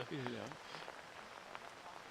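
Rain falls hard on a golf course during a girls' golf championship, a steady, faint patter beneath people talking.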